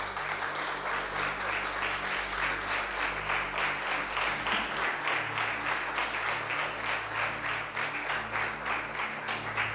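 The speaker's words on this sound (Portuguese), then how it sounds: "Dê um aplauso ao Senhor" Steady applause from a church congregation, continuous and even throughout, with a low sustained musical tone beneath the clapping.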